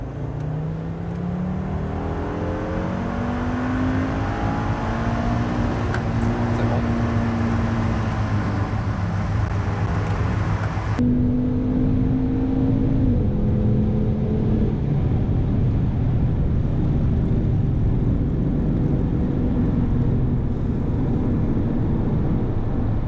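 Audi RS3 with a 2.5-litre TFSI engine accelerating hard, the engine note climbing steadily through gears with a brief shift break midway, loud and close from inside the car.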